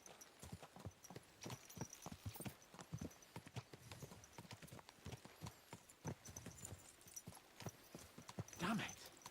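Horses gallop in the video game Kingdom Come Deliverance 2, their hooves beating out a fast, steady clip-clop up close throughout. A short whinny rises near the end.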